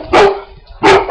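Dogs barking indoors upstairs, two loud, close barks about two-thirds of a second apart, the second followed by a quick extra yip, with no talking.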